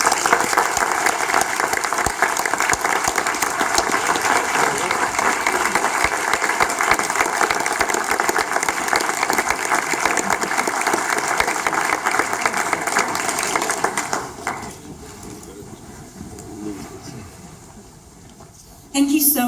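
Audience applause welcoming a Member of Knesset at a Balfour Declaration centenary event in Israel, steady, dense clapping from a large crowd that fades out, followed by a moment of quiet room noise.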